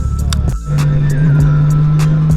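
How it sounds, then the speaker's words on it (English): Steady engine drone of a Honda Goldwing motorcycle cruising on a highway, loud and close with constant wind rush, a brief dip early on before the hum settles into a continuous tone. "Today I'm riding my Honda Goldwing."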